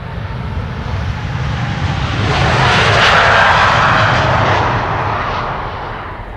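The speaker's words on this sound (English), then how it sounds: "This is KLM flight 705, outbound to Rio de Janeiro. 7879 Dreamliner, the PHBHM." A KLM Boeing 787-9 Dreamliner, registration PH-BHM, takes off from Amsterdam Schiphol on a flight to Rio de Janeiro, its engines a loud, steady broadband roar that swells to a peak midway and then slowly eases.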